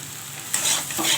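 Jute leaf mash with ginger being fried and stirred in a pan, a soft steady sizzle that swells with two brief louder stirring bursts, close and with no talk.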